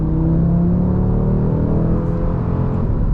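A VW Golf R MK8 engine pulls hard in third gear from about 3,500 RPM, its loud, steady rising drone and harmonic whine heard from inside the car, with no talking.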